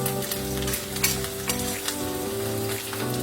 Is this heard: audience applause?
no